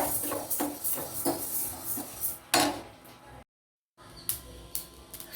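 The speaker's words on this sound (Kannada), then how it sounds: "ಅಗಸೆ ಬೀಜ ಇದು ಕೂಡ ಬೇಗನೆ ಫ್ರೈ ಆಗ್ಬಿಡುತ್ತೆ" Flax seeds dry-roasting in a pan while being made into dry fruits powder, with scattered dry scraping and stirring clicks, rattling knocks against the metal and a short silent gap partway through.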